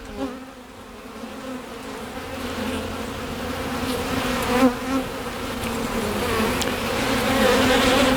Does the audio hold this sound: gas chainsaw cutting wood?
no